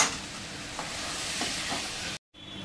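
Boiled potato mash stirred into a seasoned mixture in a pan while making aloo paratha, giving a steady scraping, soft sizzling texture that continues nearly throughout and breaks off briefly near the end.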